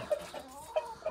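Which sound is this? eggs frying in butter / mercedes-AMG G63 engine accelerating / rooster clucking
rooster clucking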